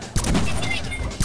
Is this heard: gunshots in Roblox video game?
yes